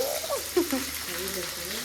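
Asafoetida and curry leaves sizzle in hot oil for a tempering, a soft steady frying hiss running beneath a voice.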